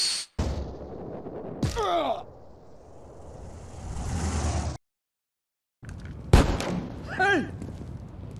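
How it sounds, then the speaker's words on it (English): Gunfire and explosive bangs in the video game GTA San Andreas, a few sharp loud shots separated by rumbling game noise and a brief silent gap, with voices talking around them. "Who shot at me?"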